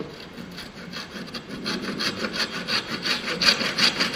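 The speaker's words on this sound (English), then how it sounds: "Now he start to cut on that area also." A hand saw cuts steadily through wood for a dovetail joint in carpentry, giving a close, rhythmic rasp of back-and-forth strokes that grow louder and stronger as the cut deepens, with no talking.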